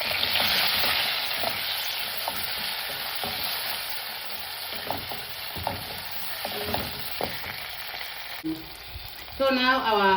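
Tomatoes and onions frying in oil with a steady close sizzle and repeated stirring scrapes, then a brief louder burst near the end, heard alone without talking.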